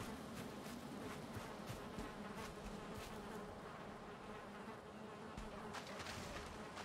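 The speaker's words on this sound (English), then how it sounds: "I hear the bees." Bees buzz steadily in the video game Valheim, a dense continuous insect drone near the listener that fills the whole stretch with no talking over it.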